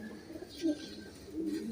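Soft pigeon coos from birds kept in a loft, faint and close, a couple of low murmuring calls over a quiet background with no talking.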